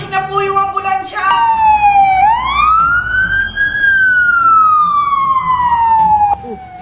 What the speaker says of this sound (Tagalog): paparating na po yung ambulansya!